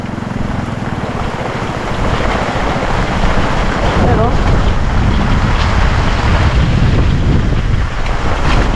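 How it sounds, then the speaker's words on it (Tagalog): Large sea waves wash and churn around a boat in rain near Old Mangarin, with heavy wind buffeting the microphone throughout and an occasional voice calling out over the steady roar. "Jumbo ang mga alon, jumbo."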